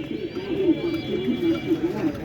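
Pigeons, including local deshi gola birds, cooing at a market in Taherpur, a repeated soft low coo running throughout with faint background chatter.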